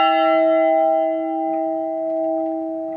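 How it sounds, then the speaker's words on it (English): A huge bronze chapel bell of about 120 kilograms, rehung in an abandoned French convent, rings one loud, close strike whose deep layered tones hum and slowly fade, with nothing else heard. "But we have reinstated a bell, a huge bronze bell, about 120 kilograms."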